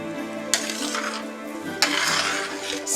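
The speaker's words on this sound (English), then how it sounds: "Just give this a stir." A spoon stirs cumin and chili powder into Mexican rice in a pot, with two distinct metallic clinks against the pot amid a soft scraping, swishing stir.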